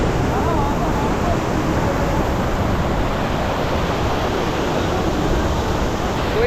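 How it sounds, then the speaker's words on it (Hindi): A Himalayan waterfall's stream on the trek from Sagar village to Rudranath rushes past nearby with a loud, steady, unbroken roar of water. "वहाँ से जो झरने का पानी है ना यहाँ तक आ रहा है बिल्कुल।"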